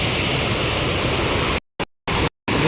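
Water rushes hard through the overflow gate of Dantiwada dam, a loud, dense, continuous roar of fast flow, cut by a few abrupt silent gaps near the end.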